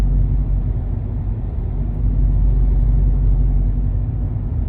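A V6 engine in a Dodge Charger rumbles steadily at idle, a deep continuous drone that stays loud and even throughout.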